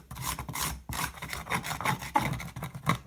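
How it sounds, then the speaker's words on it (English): Excess dried glue being scraped off wood with a plain piece of metal while making a rustic wooden flag: close, repeated rasping strokes in an uneven rhythm, with no talking. "all I'm going to do is just scrape off this excess glue"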